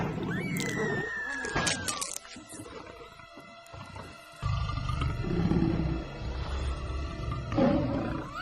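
A male lion roars and snarls loudly nearby, with harsh growling bursts, a shrill cry near the start and another rough roar at the end.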